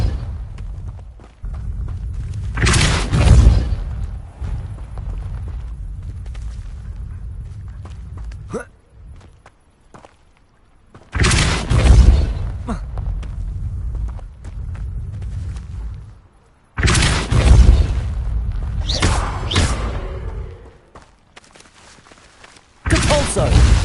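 Depulso force spell cast three times in Hogwarts Legacy, each a loud whooshing blast with a deep thump, separated by quieter stretches of ambient sound.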